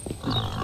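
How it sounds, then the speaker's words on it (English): A brief, low, rough grunting from pigs in the video game Mist Survival, close and moderately loud. "I can hear pigs but can't see them"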